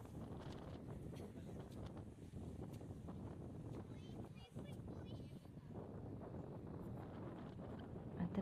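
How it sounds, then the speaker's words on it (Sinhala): Strong wind buffets the microphone at a crowded hilltop viewpoint, a low rough roar that gusts throughout with faint voices underneath. "එතන සෑහෙන්න හුළඟ ළමයි."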